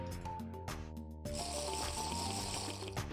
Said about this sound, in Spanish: Es un frasco llenándose con agua bendita.